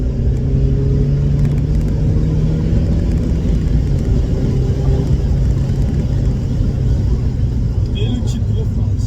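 A Mazda Miata fitted with a short shifter, with a loud, steady engine drone from inside the car as it pulls and accelerates on the road, faint voices mixed beneath the constant rumble.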